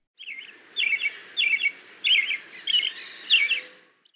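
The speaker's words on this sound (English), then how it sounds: "T is for" Thrush song: six clear, close, repeated whistled phrases in a steady rhythm, each bright and varied, separated by short pauses against a quiet background.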